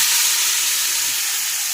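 Yogurt, ginger and garlic marinated meat sizzles loudly in a pan with red chilli powder, turmeric and cumin, a steady close hiss with no break.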